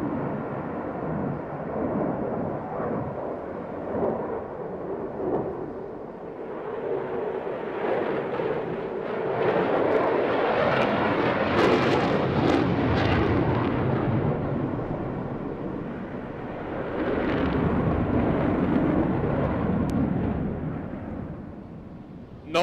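RAF Eurofighter Typhoon jet fighter at a flying display at Eastbourne, a loud sustained roar of jet engines that swells, fades slightly and builds again as the aircraft passes, broad and rumbling throughout.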